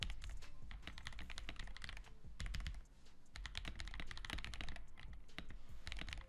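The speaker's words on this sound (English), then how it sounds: "this keyboard is using TTC Speed Silver version 2 World Premiere switches, and they sound amazing. Just take a listen." A keyboard fitted with TTC Speed Silver V2 switches and silicone dampening is typed on in rapid, dense bursts of soft keystrokes, close and alone, with a short pause midway.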